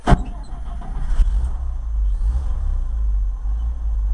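A 1965 International R185 truck running on a cold start, opening with a sharp mechanical clunk and then settling into a loud, low, steady engine rumble that carries on alone.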